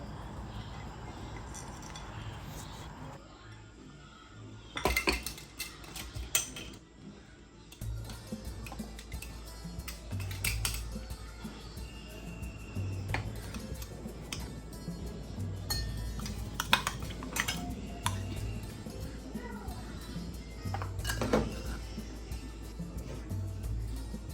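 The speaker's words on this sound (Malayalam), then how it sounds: "ഇതെല്ലാം കൂടെ ഇട്ടിട്ട് ഒന്ന് ക്രഷ് ചെയ്തിട്ട് എടുക്കാം കേട്ടോ" Garlic, ginger and green chillies are crushed together, producing a long run of irregular close taps, clinks and knocks, at times rapid and at times spaced out, over faint kitchen background with no clear talking.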